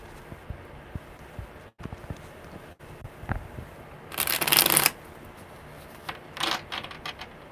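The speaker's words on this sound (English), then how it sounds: "Okay, one more good shuffle." A deck of tarot cards gets a quick riffle, with a loud burst of rapid card flutter in the middle and a shorter flurry after it, set against a quiet room.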